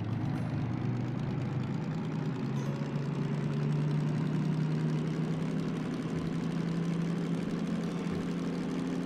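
Diesel engine of a DM3 locomotive in Derail Valley, a steady low rumbling drone that rises slightly in pitch as the revs climb, loud and continuous with no talking.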